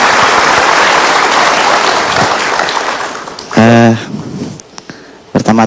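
An audience applauds a guest named Faris on an Indonesian motivational talk show, the clapping broad and dense at first and then fading. A voice speaks near the end as it dies down.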